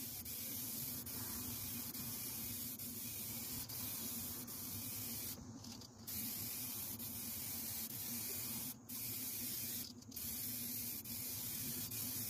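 Aerosol spray paint hisses steadily from spray cans onto a car hood, a continuous close, loud spray with a few brief pauses between passes.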